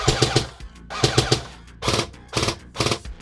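A customized FAMAS airsoft rifle fires four short, loud bursts of rapid clattering shots with brief gaps between them, close and clear with no talking.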